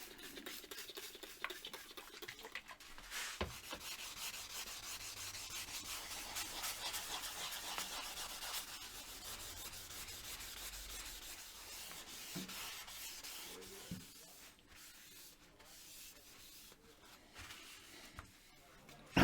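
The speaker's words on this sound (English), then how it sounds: "Right, another rub down." Steady, faint, scratchy rubbing strokes of a hand sanding down a lacquer finish between coats, continuing for most of the stretch before easing off into quieter handling noises near the end.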